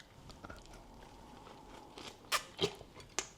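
Chewing grilled German barbecue food at a summer cookout, quiet close crunching and biting with a few sharper crunches near the end over low background noise.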